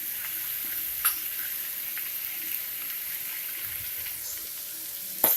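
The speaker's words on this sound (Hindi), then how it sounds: "और थोड़ा सा हल्का हाथ से उसको मिक्स कीजिए।" Cauliflower and capsicum are stirred in a frying pan over a steady, close sizzle of hot oil, with a few soft spoon knocks against the pan.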